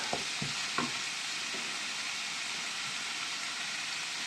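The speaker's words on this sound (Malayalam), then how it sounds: "ഇനി നമുക്ക് ഇതിലേക്ക് ക്യാപ്സിക്കം ഇട്ട് കൊടുക്കാം" Capsicum is tossed into a pan of beans and carrots stir-frying in oil. A few sharp spatula clacks come first, then a steady, moderate sizzle and hiss continues alone.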